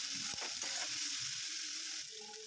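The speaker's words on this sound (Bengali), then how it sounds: "সর্ষের তেল গরম হয়ে গেলে তার মধ্যে গোটা জিরে, পেঁয়াজ কুচি দিয়ে 2 মিনিট মতন নাড়াচাড়া করে" Whole cumin and chopped onion fry in hot mustard oil in a wok, giving a soft, steady sizzle with a couple of brief clicks, quieter for the last half second.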